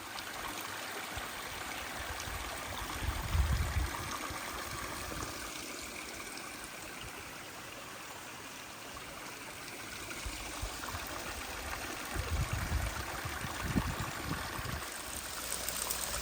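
A waterfall and stream on the Appalachian Trail rush in a broad, steady roar, close and constant, with surges of low churning water and no voices.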